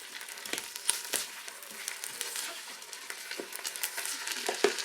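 Onions soften in a Ninja Foodi pressure cooker before the lid goes on, giving a quiet steady sizzle and crackle with scattered small pops and light scrapes, and no talk.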